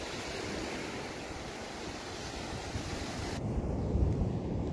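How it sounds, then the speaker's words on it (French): Waves break steadily on a beach, a loud and continuous wash of surf with some wind across the microphone and no voices. "j'ai profité un peu comme ça, tranquillement, du bruit des vagues, c'était super"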